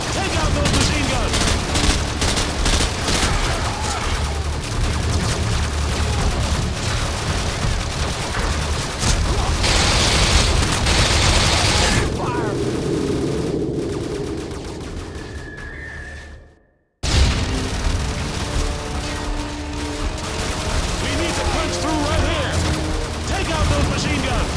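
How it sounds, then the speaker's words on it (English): Rapid machine gun fire and heavy gunfire in Call of Duty: Modern Warfare 2, dense sustained bursts mixed with shouted voices, loud and close, briefly cutting to silence before the firefight resumes. "Machine gun! Fire! Contact!"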